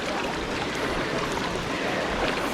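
Steady, dense rushing water fills the whole stretch, a constant broadband roar of strong current with no voices.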